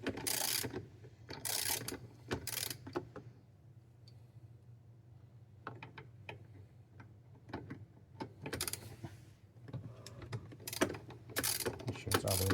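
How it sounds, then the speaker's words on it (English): Socket wrench ratcheting on a Cybertruck under-seat storage safe, bursts of quick rapid clicks repeated in several runs with quieter gaps and small handling noises between. "I think you definitely need a socket wrench to get this going"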